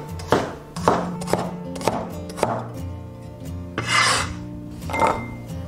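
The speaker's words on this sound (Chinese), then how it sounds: "准备一些红葱头切圈" A knife slices red shallots into rings on a chopping board, close up, with a string of sharp cuts and board knocks followed by a couple of longer rasping strokes, and no talking.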